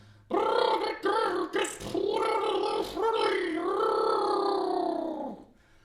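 A didgeridoo's droning, buzzy wind tone with vocal talking sounds worked into it, its pitch and timbre wobbling, played close and loud for about five seconds with brief breaks.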